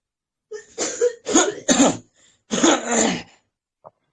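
A man coughs and clears his throat several times in a quiet room, a cluster of harsh close bursts followed by a longer rasping cough.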